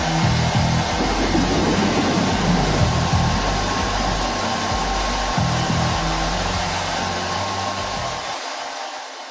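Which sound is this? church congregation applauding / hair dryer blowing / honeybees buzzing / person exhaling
hair dryer blowing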